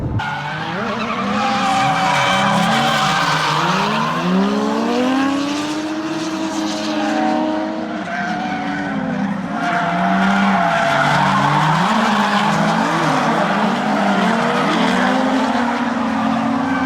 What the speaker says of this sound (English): we spent almost 2 full weeks basically tearing up the mountainside tracks, drifting